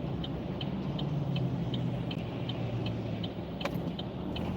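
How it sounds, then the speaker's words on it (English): Cars drive past on a road while a stopped car waits to turn, heard as a steady muffled road rumble from inside the car, with a turn signal ticking in a regular rhythm and no talking. "I'm waiting for these cars to go by."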